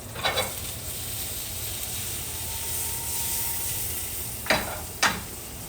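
Mushrooms cook with garlic in a pan, giving a steady close sizzle. A few sharp scrapes or clacks from stirring break in near the start and again near the end.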